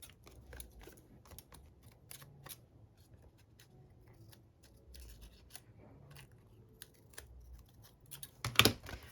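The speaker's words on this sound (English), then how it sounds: "And now we're going to trim the edge." Scissors snip along the edge of a recycled paper craft in a series of quiet, close cuts with short pauses between them. A louder rustle of handled paper comes near the end.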